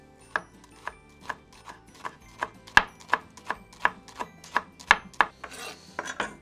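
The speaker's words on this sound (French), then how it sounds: "une échalote qu'on va ciseler fin" A shallot is finely chopped with a knife on a board: a steady series of about twenty crisp, evenly spaced taps, close up and alone, with faint rustling between strikes.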